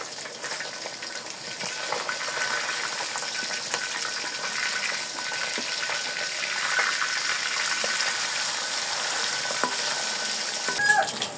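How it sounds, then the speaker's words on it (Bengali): Small fish sizzle in hot oil in a home kitchen, giving a steady crackling hiss with a few sharp pops and a light clatter near the end; no one speaks. "তেল গরম করে নিয়েছি, এখন মাছগুলো ভেজে নিব।"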